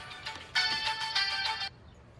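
Phone ringtone of an incoming call, a bright electronic tune rising in two bursts over about a second and a half before cutting off abruptly, moderately loud with no talk.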